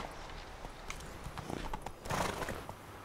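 Hooves clip-clop from a horse in The Witcher 3 video game, several quick hoof strikes building toward a louder cluster near the end, with a whinny-like note mixed into steady game background sound.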